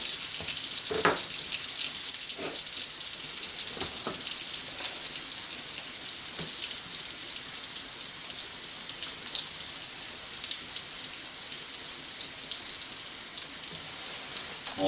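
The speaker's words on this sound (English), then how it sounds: "It's more like we're pan frying it now" Lightly floured Scotch collops fry in a pan with a continuous, close sizzle and crackle that sounds like steady rain, and scattered louder pops break through it.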